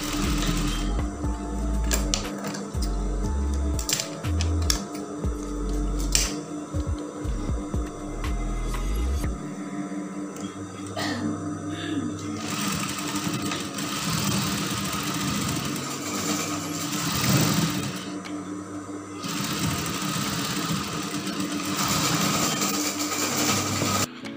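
A sewing machine stitching the side seam of a brocade dress runs in a loud, steady mechanical whir, starting with a few short bursts and then a long continuous run.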